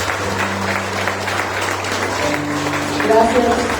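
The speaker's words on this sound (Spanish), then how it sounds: "se merece un aplauso" A church audience applauds, a steady wash of clapping under low sustained musical tones and a murmur of voices, growing slightly louder near the end.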